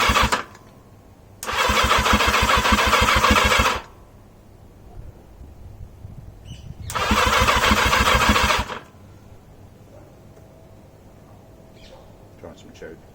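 1980 Yamaha XJ650 motorcycle on its first start-up attempt: two loud bursts of starter-motor cranking, each a few seconds long, with the engine turning over rhythmically but not catching, close up with quiet pauses between.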